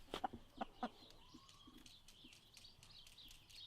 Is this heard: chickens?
yes